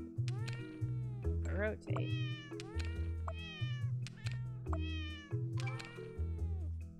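Repeated cat meows from a video game, several rising calls in close succession over steady game music, with a person talking briefly in between.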